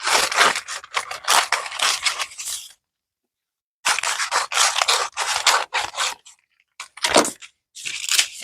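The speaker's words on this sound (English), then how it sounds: "Just use some utility scissors." Utility scissors cutting a paper tracing for a quilt, heard up close as rapid crisp snips in a long run, then a pause, another run of snipping and a few final short cuts.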